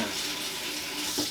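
Gloved fingers swish through water in a steady, close wash of splashing and trickling, with no talk over it.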